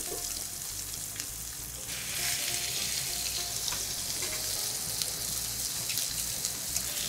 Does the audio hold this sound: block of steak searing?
yes